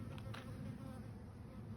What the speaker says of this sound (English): just a couple of bees there getting very interested in my face